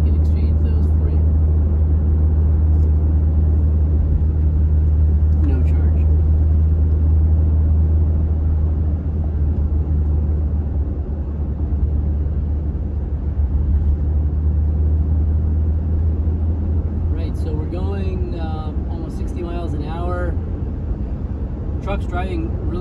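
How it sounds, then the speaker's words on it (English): A 2007 Toyota 4Runner Sport out on a road test drive: steady low engine and road rumble throughout, with occasional brief voices over the cabin noise. "Driving really great, no shaking, the steering wheel, the alignment's good"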